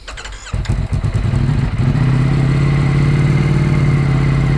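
A Ducati Streetfighter V4 motorcycle fires up with a few sharp blips, then settles into a loud, steady, close-up engine drone that holds without letup.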